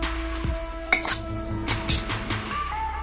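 A spoon stirring dhaniya panjiri ingredients in a metal pot gives repeated close clinks and scrapes in an uneven rhythm. There is no talking.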